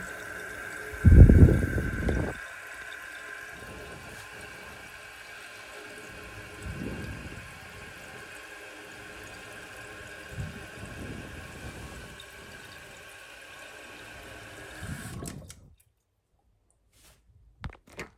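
Homemade automatic toilet bowl cleaner filling with water inside a toilet tank, with a steady hiss of running water, a few louder gurgles and splashes near the start and soft bubbling, ending abruptly in near silence.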